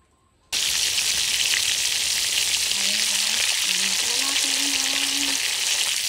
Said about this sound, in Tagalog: sunod natin yung isda guys na prito